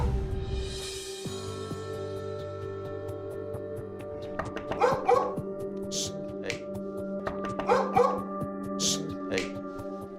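A frightened dog barks and yelps in short bursts after a knock at the front door, the barks clustered near the middle and end over steady room tone, with a brief spoken word at the start.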